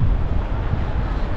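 Wind buffets the microphone outdoors on a hillside, a loud, constant low rumble with no other sounds.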